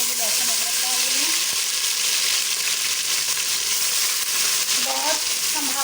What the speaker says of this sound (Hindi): बहुत ज़्यादा ये शोर शराबा कर रहा था प्याज और लहसुन मिक्स होके